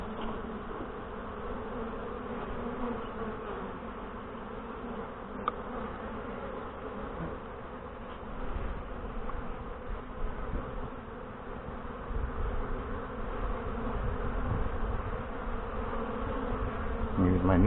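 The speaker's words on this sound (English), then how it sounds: "I'm just going to shake these bees off into the brood box." Honey bees buzzing around an open hive as frames are shaken into a brood box, a dense continuous drone close by that swells slightly louder toward the end.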